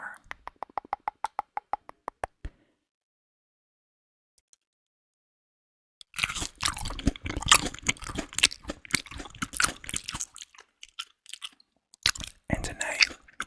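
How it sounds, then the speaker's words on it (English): Grapes being eaten up close in a quiet setting: crisp bites followed by wet, crunchy chewing in steady bursts, after a run of short sharp taps and a silent pause. "we're gonna be eating some grapes."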